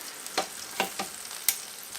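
Bacon-wrapped, mozzarella-stuffed chicken breasts cook in a Ninja Foodi Grill XL, with a soft frying hiss broken by a few sharp crackles and pops spaced out over a couple of seconds.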